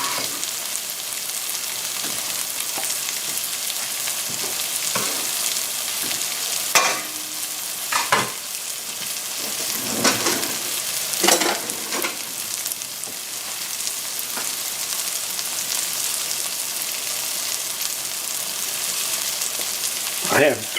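Mushrooms and diced shallot fry in butter in a pan, giving a steady, close sizzle with scattered pops and stirring scrapes throughout.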